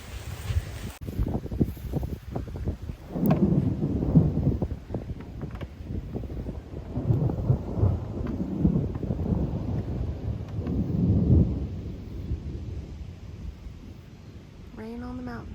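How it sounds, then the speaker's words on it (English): A thunderstorm on a mountain brings rumbling thunder and rain, heavily buffeted by wind on the microphone. The low rolling swells build and fade over several seconds, with faint voices and a brief whistle-like tone at the end. "Rain on the mountain."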